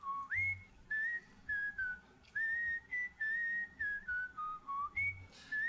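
A melodic whistled tune carries the lead on a recording, a clear run of sustained and sliding notes in steady phrases over a quiet backing.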